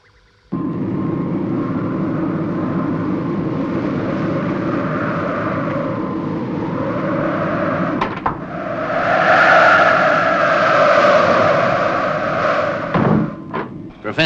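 Supercar, a hovering craft, holds steady just a few feet above snowy ground, giving off a continuous loud engine drone with shifting whine that swells midway, punctuated by a sharp thud near the end.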